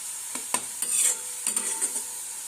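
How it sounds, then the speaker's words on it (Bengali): Onions frying in oil until reddish brown for chicken kala bhuna, with a bright hiss of sizzling under several scraping spatula strokes, close and moderately quiet. "ঠিক এইভাবে পেঁয়াজটাকে লাল লাল করে ভেজে নিতে হবে, বেরেস্তার মতো করে।"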